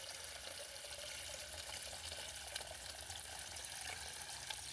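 Water rushes steadily from a released tube into a bucket, a constant broadband hiss and splash with no pauses, fairly quiet and without talk.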